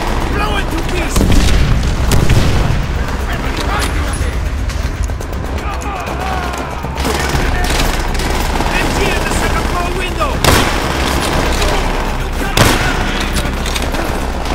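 Dense, loud battlefield din from the World War II shooter Call of Duty: World at War, with continuous gunfire, booming explosions and a flamethrower, while soldiers' voices shout over the chaos.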